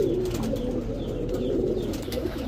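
Pigeons at a pigeon seller's coop, including bokbokum and racer pigeons, give low, continuous throaty cooing that stays close and steady throughout with no talk.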